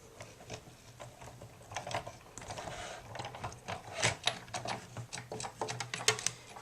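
Paper and a flip die pressed between a tan embossing mat and cutting plate are cranked through a manual die-cutting embossing machine, giving a steady run of faint clicking, ratcheting mechanical rolling.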